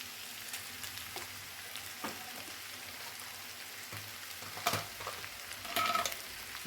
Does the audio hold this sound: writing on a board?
no